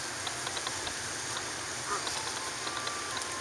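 At Eola Park, birds clustered around a swan give faint, scattered quacking calls over a constant hiss of outdoor background noise.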